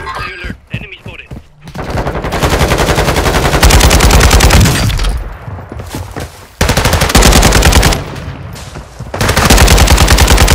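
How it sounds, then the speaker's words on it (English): Rapid automatic gunfire in the shooter Call of Duty: Modern Warfare II, long loud sustained bursts broken by short pauses, close and dominating, after a few brief shots at the start. "Taking effective fire."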